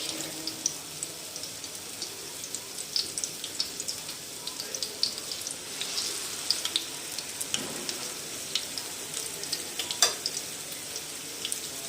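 Crispy burger patties fry in a pan over a medium-low flame, giving a steady close sizzle and crackle with light scraping, no talk.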